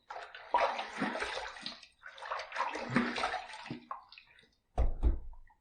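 Water runs and splashes as a safety razor is rinsed after a shave, two long gushing bursts separated by a pause, then a brief sharper splash at the end, close and fairly quiet with no talking.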